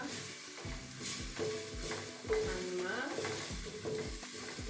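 Onions frying in a pan, a steady sizzle with repeated scraping and stirring strokes from a utensil, close and fairly quiet, with a brief spoken word.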